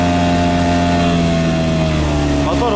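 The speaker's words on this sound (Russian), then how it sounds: "Мотор вообще не идет просто." Outboard boat motor labouring upstream against the current on a shallow taiga river riffle, a steady droning engine hum with strong harmonic tones, close and continuous under wind and water noise.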